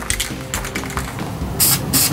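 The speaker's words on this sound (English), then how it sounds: "all we're going to do is just spray paint the tips black" Short bursts of spraying hiss from a black spray paint can onto prop gun tips, two louder sprays near the end, with light clicks and handling noise between.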